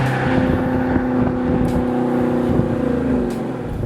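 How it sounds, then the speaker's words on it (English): A Dodge Challenger R/T V8 engine and exhaust rumble steadily at close range, a deep sustained drone with low harmonic throb holding for several seconds and easing slightly toward the end. "There's no replacement for the sound of a V8 with a nice exhaust on"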